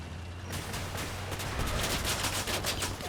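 Artillery fire from a vehicle in Crossout, a rapid run of loud booming shots that starts after a brief quiet lead-in and keeps pounding at a fast, even rhythm.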